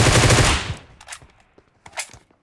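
Rapid automatic gunfire in PUBG Mobile, a dense loud burst of shots lasting under a second, followed by a few scattered clicks and faint impacts as an enemy is knocked down.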